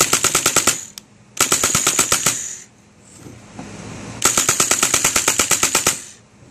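A full-auto gun fires after an adjustment to its rate-of-fire screw, ripping off three loud, rapid bursts of evenly spaced shots with brief quiet gaps between them.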